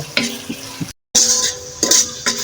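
Garlic and ginger paste masala sautéed in a pan, with sharp scraping stirs of a spoon against the metal over a soft sizzle, close by, interrupted by a short gap.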